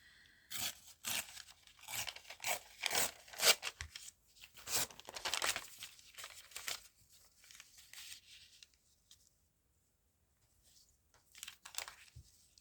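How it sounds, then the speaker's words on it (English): Feather-patterned wrapping paper is torn along a crease in a series of close, crisp rips and crinkles, several quick bursts in a row, then a pause and a final short tear. "Just going to tear along that crease just to make it a little bit easier to work with."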